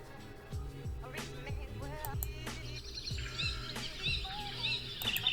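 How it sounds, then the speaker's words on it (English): A parrot calls in a few short, bright squawks over a busy backdrop of layered music and other bird chirps, moderately close and not very loud. "It's a parrot."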